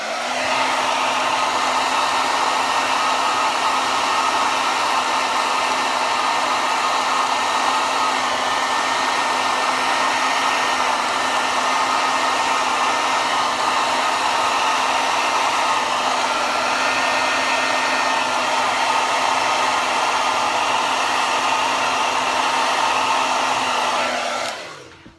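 A hair dryer blows warm air in a loud, steady, close roar that holds for about twenty-five seconds, then cuts off abruptly. No voices are heard.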